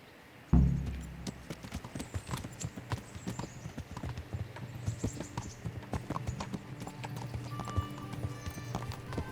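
Steady clip-clop of horse hooves in the video game Kingdom Come: Deliverance, a quick irregular trotting rhythm that starts suddenly with a thud and continues over a low rumbling background.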